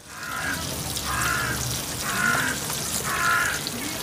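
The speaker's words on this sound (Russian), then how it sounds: "вороны закаркали" Crows cawing outdoors in four evenly spaced harsh calls against steady background noise, no speech.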